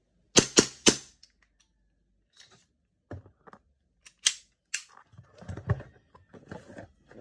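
Airsoft pistol shots from a WE Glock 17 and WE 1911, three sharp close cracks in quick succession, then scattered clicks and handling noises followed by another shot.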